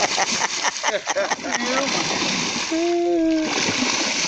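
Dourado fish leap and thrash during feeding, throwing up loud, close splashes in a choppy burst while people talk and exclaim over the commotion.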